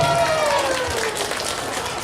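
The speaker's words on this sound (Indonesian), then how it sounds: "Mari tepuk tangan bersama-sama." Applause from a crowd, a steady wash of clapping with a faint whistle-like tone gliding downward across it.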